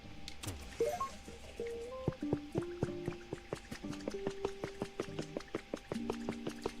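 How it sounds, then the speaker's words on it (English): Water runs from a turned handle in the video game Pokopia. Plinking, drip-like tones fall in a steady, bubbly rhythm with light splashing underneath. "turn the handle at the top to start or stop the flow of water"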